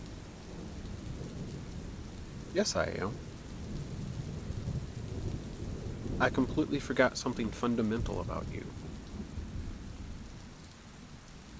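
Thunderstorm with steady rain hissing throughout and rolling thunder rumbling low, while someone speaks softly over it in a few short bursts.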